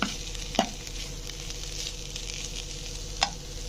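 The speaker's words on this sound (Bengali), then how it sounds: "তো বিটরুটটা প্রায় ভাজা হয়ে গেছে" Beetroot fries in a pan with a continuous close sizzle, and two sharp utensil clicks stand out against it. No voices are heard.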